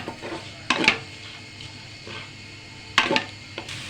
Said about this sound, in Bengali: পেঁয়াজ কুচিটা দিয়ে আমি একটু নাড়াচাড়া দিয়ে একটু ভালো করে পেঁয়াজটা একটু ভেজে নেব হালকা